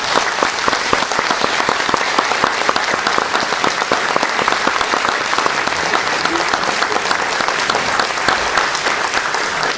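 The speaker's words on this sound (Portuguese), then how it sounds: "quando se é eleito, merece mesmo uma salva de palmas" A large audience at a formal opening session gives sustained, dense applause, loud and even for around ten seconds, a continuous roar of many hands clapping with faint crowd murmur beneath.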